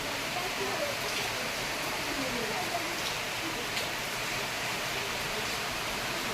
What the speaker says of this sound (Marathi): किती मस्त पाऊस पडतोय